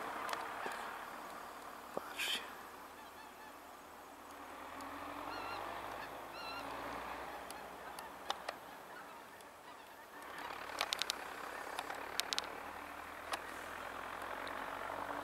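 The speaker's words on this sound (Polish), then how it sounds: "Klucze gęsi." Geese honk repeatedly at a distance, scattered calls overlapping as a flock passes, over a low outdoor rumble with no talking.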